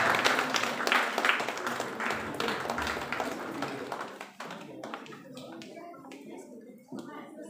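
Applause from an audience at a university function welcoming a guest to the stage, loud and dense at first, then thinning into scattered claps and fading, with talk around it.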